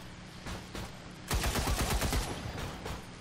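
A SPARK unit in the XCOM 2 video game opens fire in a rapid burst of heavy shots, loud and close, following a few fainter thuds.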